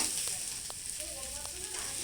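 Potato, cauliflower and a few peas frying together in a kadai, making a quiet, even hissing sizzle with a couple of faint stirring scrapes over two seconds.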